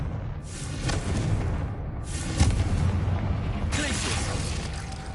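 Confringo fire spell from Hogwarts Legacy, a string of heavy booming blasts and bursts, loud and close, over rumbling game effects.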